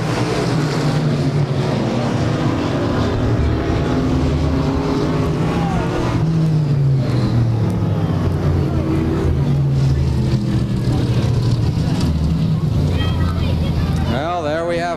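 Stock race cars running on the track at Claremont Speedway during 1996 weekly racing, a continuous loud engine drone with shifting pitch as cars pass, while an announcer talks over it.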